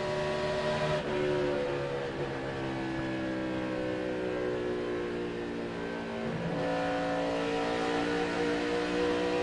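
NASCAR Cup Series race cars at Chicagoland in 2006, with several engines roaring together at sustained high revs and no speech. The harmonic pitch sweeps steadily downward as the pack passes, then shifts again near the end.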